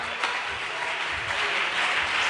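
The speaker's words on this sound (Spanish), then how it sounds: "Aplausos al Señor." Congregation applause during a church service, a steady, fairly full wash of clapping throughout, moderately close with no talk over it.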